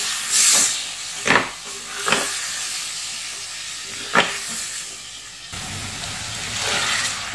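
Tomatoes hit a hot pan of beef masala with turmeric and hiss in a steady, close sizzle, broken by a few sharper spurts of steam and spatter.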